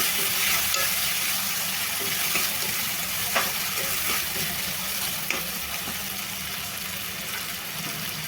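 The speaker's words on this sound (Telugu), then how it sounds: "ఇప్పుడు టమాటాలు వేసుకుంటున్నాను ఈ టమాటాలు కూడా మనకు ఫ్రై అయిపోవాలన్నమాట" Tomatoes hit a hot pan for a raw banana and tomato curry, producing a steady, dense sizzle that fills the whole stretch, with faint stirring clicks now and then and no speech.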